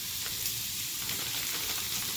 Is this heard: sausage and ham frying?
yes